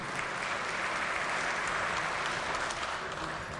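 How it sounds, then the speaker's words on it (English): A chamber of the West Virginia Legislature breaks into applause: steady, dense clapping from many hands that fills the room at an even level for several seconds, with no voices standing out. "Please give them a round of applause."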